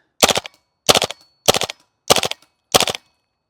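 GHK G5 gas-blowback airsoft rifle fired on full auto through a suppressor, five short, loud bursts of rapid clattering shots with brief silent gaps between them.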